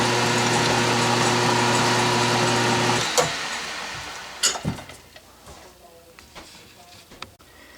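A stubby drill bit spins in a machine while a wiggler edge finder is being made, giving a steady, fairly loud motor hum for about three seconds before it winds down and stops, followed by a few scattered clicks and knocks.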